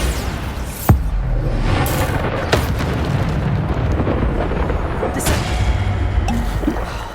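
Bombarda explosive spell cast in Hogwarts Legacy during a hard-difficulty battle: a sharp blast followed by a sustained roaring rumble, with further thuds and impacts breaking through a dense, loud wash of combat noise.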